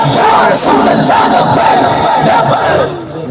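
A large crowd at a religious rally in Mianwali chants the Labbaik ya Rasool Allah slogan in loud, continuous, massed voices that fill the space and ease slightly at the end.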